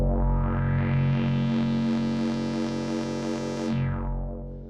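A sustained synthesizer chord with unison switched off, bright and buzzy with dense harmonics, held steadily for several seconds before fading out at the end.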